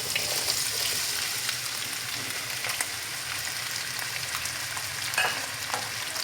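Potatoes frying in hot ghee for aloo bhujia, a steady, dense crackling sizzle close by that carries on evenly with occasional sharper spits and pops, and no voices over it.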